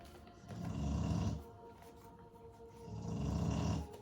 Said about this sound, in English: Baby's snoring